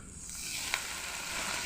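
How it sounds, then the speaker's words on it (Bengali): A spice paste with ground cumin and coriander frying in a pan, a brief, soft continuous sizzle with one small pop partway through and no voices. "এখন দিয়ে দিব জিরে গুঁড়ো, ধনে গুঁড়ো দিয়ে আমি কষিয়ে নেব।"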